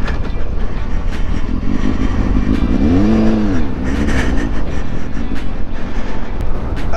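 Motorcycles idling and revving near a monument on a windy outing to Lajatico, with a steady engine drone, a brief rising-and-falling rev mid-clip, and wind buffeting throughout, no talk.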